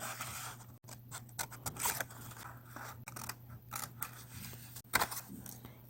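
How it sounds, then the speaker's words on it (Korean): Scissors snip through a sheet of paper while cutting along a fold line for origami, a close, quiet series of crisp cuts and slicing scrapes at an uneven pace, with no talking. "이렇게 자를 때 여기 만나는 선까지 가위로 잘라줍니다."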